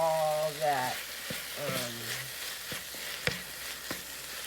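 Frozen homemade cut okra frying in a pan is stirred, giving a soft steady sizzle with scattered scraping clicks of the utensil, plus a few brief tonal voice-like sounds early on.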